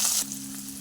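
Garlic, chili and tomato fry in hot oil, giving a brief close sizzle that flares loudly at the start and then settles to a steady, quieter hiss.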